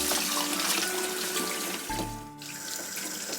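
Bamboo leaves for red bean alkaline rice dumplings are rinsed under a running kitchen tap. The close, steady gush changes tone briefly midway as the leaves shift in the stream, then carries on.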